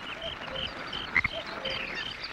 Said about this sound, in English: Frogs come in all sizes.